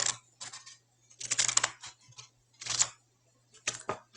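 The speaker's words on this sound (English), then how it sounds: "line up our Scissors right on the edge of the line again, and snip all the way across" Scissors snip across paper during an arts-and-crafts cutting job, making a run of short, crisp cuts in uneven bursts, close and fairly clear with brief silences between them.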